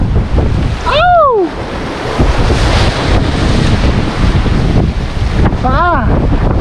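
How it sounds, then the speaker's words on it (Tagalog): Strong northeast monsoon wind roars across open sea, a loud continuous buffeting rush with surf noise underneath, broken by two sharp excited shouts from a person on board. "Kataas ang hangin!"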